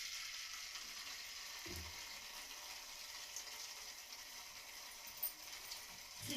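Ginger garlic paste frying in about three tablespoons of hot oil for egg bhurji, giving a faint, steady hiss and sizzle with a couple of soft clinks, no talk.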